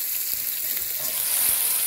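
Masala fries in a hot pan, sizzling loudly and steadily up close, with sharp crackles and small spits of splatter scattered through the hiss.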